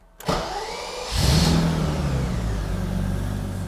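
A restored 1990s BMW E31 850 with a V12 engine cranks briefly, catches and fires up with a loud rise, then settles into a steady, smooth idle nearby.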